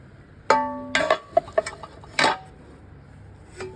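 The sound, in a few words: cookware set pots being handled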